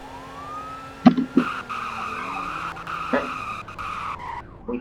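A car in a roleplay video game brakes hard and skids, with screeching tyre squeals and thumps over a steady engine tone and a faint siren-like whine, close and loud.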